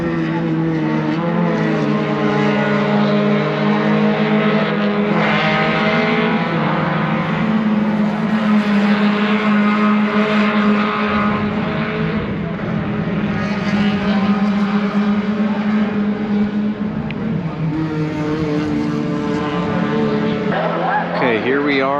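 Race cars roar past the bottom of turn 9, the corner called the beach, at Hallett circuit, a loud continuous engine drone with rising and falling pitches as several cars pass close by, with people talking underneath.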